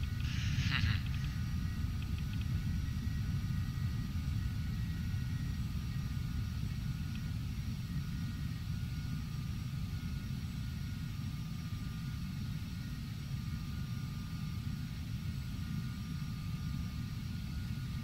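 Steady, loud whine and rumble of the twin jet engines on an Embraer Phenom 300 (Carenado EMB 505) in the FSX flight simulator, a continuous drone filling the whole stretch with a brief blip near the start.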